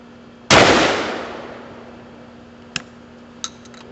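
A Winchester 37 steelbuilt shotgun fires a single loud, sharp blast that rings and decays, followed by two light metallic clicks as the spent shell is ejected.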